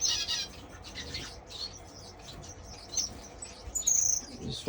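Strawberry finches, fire finches and owl finches chirp and tweet in a bird room, a busy mix of small high calls with occasional louder nearby notes over a constant low room rumble.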